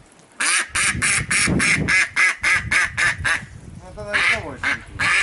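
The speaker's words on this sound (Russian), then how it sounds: "Утка. Мама утка и утята." A duck quacks loudly and close up in a rapid series of about a dozen harsh, evenly spaced calls, ending in a faster, raspier burst.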